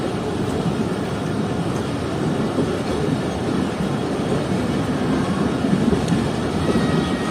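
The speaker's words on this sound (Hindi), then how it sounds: "तो तकरीबन 2 मिनट रुकने के बाद 152 डाउन डिपार्ट कर रही है जंगशाही रेलवे स्टेशन से" Train 152 Down pulls out of Jungshahi railway station in Pakistan with a steady, loud, close rumble and a low roar that holds evenly throughout.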